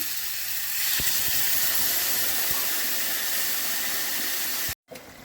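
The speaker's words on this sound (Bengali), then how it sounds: "কষানো হয়ে গেছে, এবার আমি জল দিচ্ছি।" Water hits a hot pan of sautéed spices for rohu fish and cauliflower curry and bursts into a loud, steady hissing of steam that keeps roaring, then cuts off abruptly near the end.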